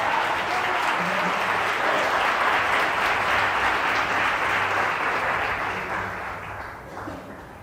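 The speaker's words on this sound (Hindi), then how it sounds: "भाई साहब के लिए तालियां दे।" A church congregation claps for a brother at a gospel message, steady dense applause filling the room before gradually thinning and fading toward the end.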